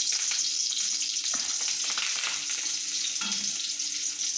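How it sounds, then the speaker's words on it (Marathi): Curry leaves drop into hot oil for gilkyache bharit, a loud, dense crackling sizzle that stays close and constant, with a couple of sharper spatters and clinks, and no voices. "तेल छान गरम झाले त्यात आपण कढीपत्ता टाकू"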